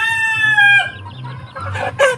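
A chicken clucks and gives a short rising squawk up close while being fed chili, loud and alone with no voices over it.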